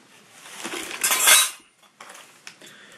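Small silver and silver-plate salt spoons from a car boot sale clink and rattle as they are handled, a bright metallic jangle swelling loudly near the start, then a few sparse light taps after a brief pause.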